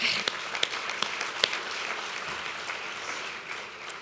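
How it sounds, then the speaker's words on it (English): An audience at a National Philanthropy Day luncheon applauds steadily, a moderately distant patter of many hands with a few sharper claps standing out. "And I need to applaud you for that."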